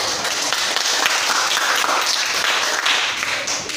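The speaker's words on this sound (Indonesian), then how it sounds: "untuk kelompok 2 kita beri aplaus" A classroom audience gives steady, dense applause for a student group after its presentation in a peer-teaching session, the clapping continuous and fairly loud throughout.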